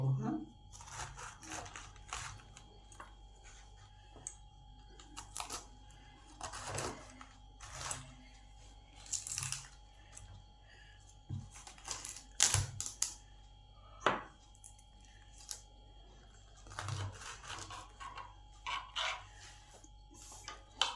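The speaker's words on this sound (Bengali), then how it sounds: "এবার বাঁধাকপিটাকে কেটে নেব।" A knife chops cabbage finely on a board for a vegetarian cabbage ghonto, in irregular bursts of quick, crisp strikes separated by short pauses, fairly quiet over a faint steady hum.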